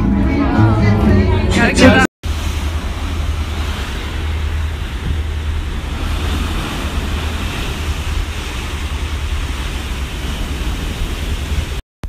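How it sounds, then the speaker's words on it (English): Big ocean waves around 20 feet high in the Drake Passage on an Antarctica expedition ship, a steady broad rushing roar of wind and water after a brief burst of voices at the start. "These waves are really big."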